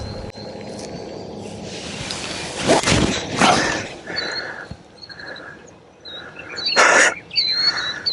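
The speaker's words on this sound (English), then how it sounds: "I scared a lot of birds because that one was low" Birds flushed across a golf course by a low shot break into chirps and calls, with a burst of flapping and rustle midway and scattered tweets continuing near and far.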